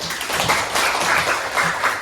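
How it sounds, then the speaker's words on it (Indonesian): A class applauding after a group presentation, a steady, fairly loud burst of many hands clapping together that holds for the whole moment. "Oke, silakan tepuk tangan."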